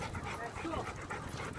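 A dog running alongside a bicycle pants in quick, steady breaths, heard close and soft beneath a person talking.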